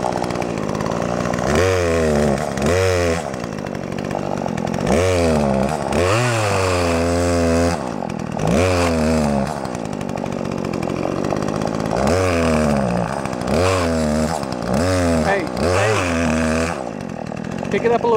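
A chainsaw revs and cuts into wood, its loud engine rising and falling in repeated surges of acceleration as it bites in, with people talking over it intermittently.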